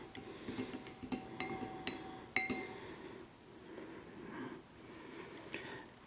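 A spoon stirring dye mix in a glass for dyeing plastic parts gives a series of light, faint clinks and ticks, a few sharper taps near the start then softer stirring.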